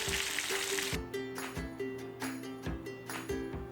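White snapper fish frying in a pan, a bright sizzle that drops off abruptly, then a steady hiss broken by rhythmic scraping and tapping of turning the pieces, close and moderately loud.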